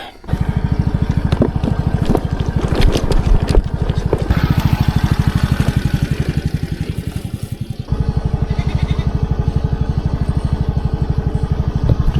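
A vehicle drives a mountain road in Nepal. A loud, close engine drones with a rapid pulsing beat and rattles, easing and picking up again around a gear change.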